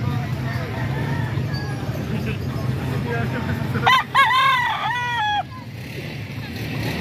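A rooster crows loudly nearby at a chicken market in Calumpit, over a murmur of people talking and faint clucking in the background.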